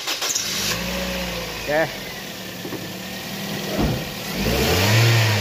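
An overhauled Toyota 2NZ car engine that still misfires cranks and catches, then revs up and settles, rising again toward the end, with a person speaking briefly nearby.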